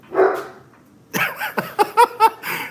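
A dog barks from inside a room where a live podcast on bass fishing is being recorded, a few sharp yips and barks in a quick burst after a faint whine, fairly close and clear with no talk over them.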